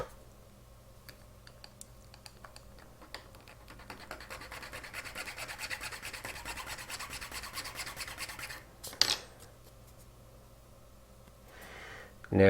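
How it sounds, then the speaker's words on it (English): Hand filing a notch into the edges of metal wheel spokes, a quiet rapid rasping of repeated strokes that builds in intensity, with a brief clatter near the end. "you can see I'm actually filing a notch out of the inside or the outside edge of each spoke"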